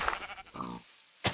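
Short grunting animal calls from a pig in Minecraft, two quick bleat-like snorts close by, followed by a brief sharp noise.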